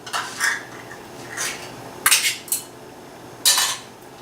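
A utensil scraping and clinking against a bowl while cornbread batter with cream style corn is mixed; several bright, irregular scrapes and knocks close up, no talking.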